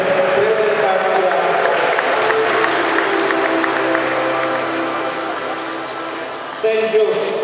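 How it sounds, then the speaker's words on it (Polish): A crowd at a Polish under-16 youth basketball championship final in Opalenica applauds a team, a dense, steady wash of clapping and cheering that fills the whole stretch before easing slightly and then swelling again. "Brawa dla zespołu"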